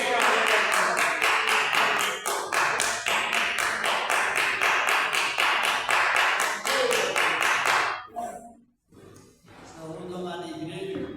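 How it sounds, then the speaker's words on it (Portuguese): Church congregation clapping together at a worship service, a loud rhythmic run of in-time claps lasting about eight seconds, then a brief pause and a quieter stretch with voices. "Vamos receber o céu de Deus com palmas."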